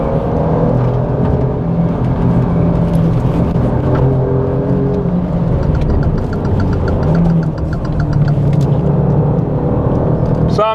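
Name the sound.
Alfa Romeo Giulia V6 engine driving on track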